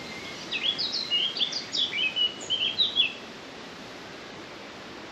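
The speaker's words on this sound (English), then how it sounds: "I hear birds." Small birds chirp outdoors in Denmark, a quick series of high, thin tweets over about three seconds, moderately close above a steady background hiss, then quiet.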